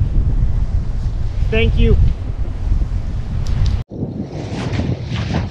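Strong wind buffets the microphone while sailing on open water, with a steady roar and waves washing around the boat; a short spoken phrase cuts through partway, and the rush briefly drops out before resuming.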